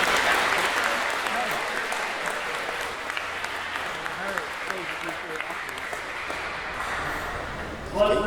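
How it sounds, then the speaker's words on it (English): A crowd applauds steadily for swim team seniors at a high school swim and dive meet against Bowling Green, the dense clapping holding at an even level for several seconds, with a brief louder burst near the end. "One more time, let's give these seniors a round of applause for their contributions to Bryan swimming."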